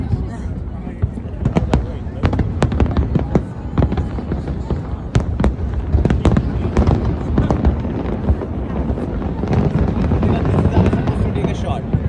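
Fourth of July fireworks over New York, a dense barrage of sharp crackling pops and booms firing rapidly and continuously, with a crowd murmuring and talking underneath throughout.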